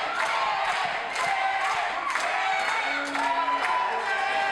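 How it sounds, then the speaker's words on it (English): A wrestling crowd at the King of Texas Tournament final cheers in a sustained, dense roar, with scattered shouts and thuds rising from the din throughout. "Listen to this crowd."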